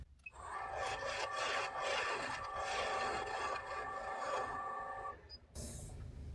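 A spindle gouge cuts a wooden chuck spanner handle spinning on a lathe, giving a steady scraping hum for about five seconds before the cut stops.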